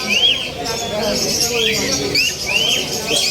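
Caged birds chirping at the Grotto Pet Market in Bulacan, with repeated short rising whistles and tweets from several birds over a steady crowded market hum and murmuring people.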